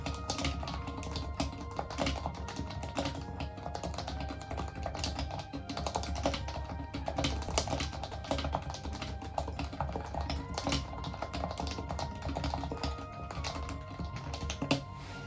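Typing on an HHKB Professional Classic Topre keyboard, with a dense, continuous patter of muted keystrokes at a steady fast pace, close and fairly quiet, alone with no talking.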